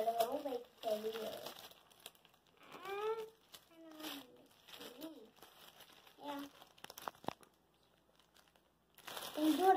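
Plastic L.O.L. Surprise Glitter series toy packaging being torn and crinkled open, with short crackling bursts between child speech, taped wrapping resisting, and a louder crumple at the end.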